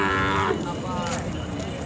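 Khillar cattle low with a single loud, drawn-out moo near the start at a busy weekly livestock market in Sangola, followed by steady crowd murmur.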